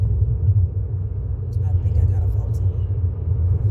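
Steady low rumble from inside a moving car on the road, loud and continuous throughout, with no distinct passes.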